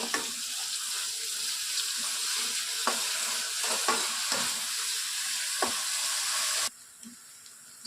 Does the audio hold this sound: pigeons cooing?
no